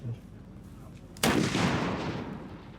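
At a weapons demonstration, a single loud, close gunshot or blast cracks out after a quiet stretch, then trails off in a long, rumbling echo.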